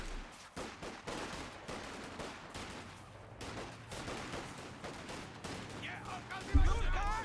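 Bursts of submachine gun fire in a Company of Heroes 2 1v1 match, rapid distant rattles with explosions mixed under a game soundtrack, ending in a heavier boom.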